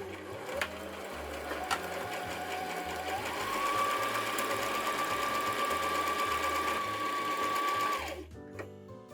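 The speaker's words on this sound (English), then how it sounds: "stitching just in a nice straight stitch along there" Nearby, a sewing machine stitches a straight seam joining two pieces of fabric for lined mini stockings, its motor whirring steadily and rising in speed partway through before stopping abruptly, with a couple of faint clicks.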